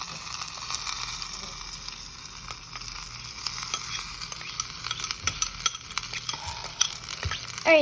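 Corn frying in a pan for a Mexican corn dish, stirred with a utensil: a steady close sizzle with repeated scraping strokes and clinks throughout, no talking.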